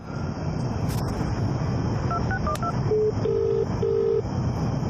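Several keypad dialing tones are punched in quickly while placing a phone call, beeping in a short run and then holding longer tones, over a steady background hum.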